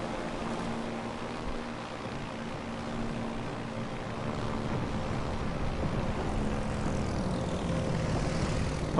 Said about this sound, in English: Okay, there's a bomber squadron there.